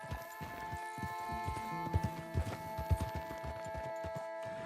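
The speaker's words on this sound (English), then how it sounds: "Will you get a hold of that horse?" Horse hooves clip-clop in an uneven trotting rhythm, getting louder midway, over a steady tonal background drone, in the video game Red Dead Redemption 2.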